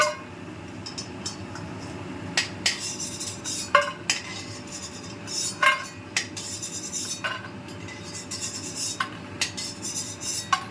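A metal utensil scrapes and clinks against a pan while fried lentil dumplings are lifted out of oil, giving scattered sharp taps and scrapes over a steady low hum, with no talking.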